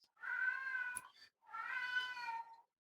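A cat meows twice, two drawn-out close calls separated by a short pause, clear against a quiet background.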